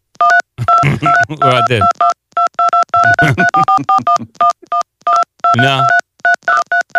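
Rapid bursts of telephone DTMF keypad tones dial a number, each beep short and sharp in an uneven rhythm, while people talk over and between the tones.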